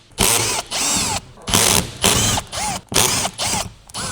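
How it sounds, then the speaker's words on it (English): A cordless screwdriver gun with a 5mm hex bit loosens the adjustment bolt on a strut mount in short whirring bursts, about seven pulses separated by brief pauses, close and fairly loud. "Use a screwdriver gun with a 5mm hex bit."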